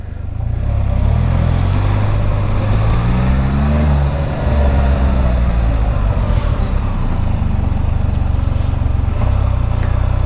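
A 2014 Can-Am Spyder three-wheeler braking hard on a wet road, a loud steady engine and road rumble throughout with a falling tone as it slows mid-clip, no speech.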